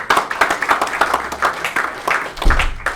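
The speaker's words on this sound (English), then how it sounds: "Once again, let's have a round of applause" Audience applause after a presentation, dense steady clapping from a crowd throughout, loud and close.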